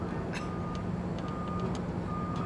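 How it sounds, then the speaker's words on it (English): A school bus backing into a parking space, its reversing alarm sounding as steady repeated beeps over a continuous low engine rumble. "Hear that sound? That's him backing in."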